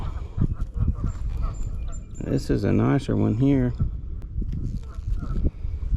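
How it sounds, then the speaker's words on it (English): Someone talks nearby on a fishing bank while a few geese let out honking calls in a brief burst in the middle, then quieter rustling follows. "Listen to them geese over there clapping for me."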